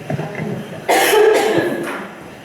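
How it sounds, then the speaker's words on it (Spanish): A harsh, close cough from a person with a cold, in a couple of bursts following a brief murmur, loud and raspy. "voy a tener tos casi todo el rato"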